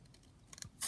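A single quick scissor snip trimming a small stopper piece off a paper craft embellishment, close and fairly faint, ending in a brief sharp cut with no voices.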